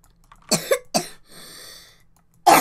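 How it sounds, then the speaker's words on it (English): A person coughs three times close to the microphone, two sharp bursts followed by a third with a rasping breath, then another cough starts at the end. "I'm having a cough here"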